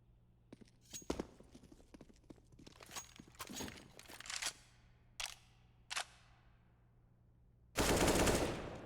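Gunfire in Counter-Strike on the Mirage map during an ESEA league match: scattered single shots and short bursts over about eight seconds, then a loud sustained roar of fire near the end, with no talking.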